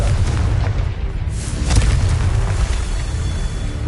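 Fiery Confringo explosion spells blast in a video game, a loud, continuous rumbling boom with dense low roar and crackle filling the whole moment, with no talking.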